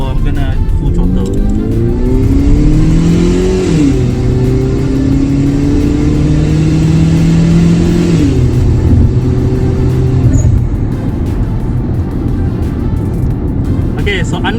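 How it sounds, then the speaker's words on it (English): A 2002 Toyota Caldina GT4 with a turbocharged 3S-GTE engine pulls at full throttle in a straight line, its engine note climbing through gears with rising pitch and shift drops, loud inside the cabin. "So I'm in a straight line now, so I'm gonna full throttle."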